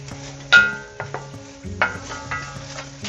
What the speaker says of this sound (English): So once the olive oil is warm, we're going to add in the onions.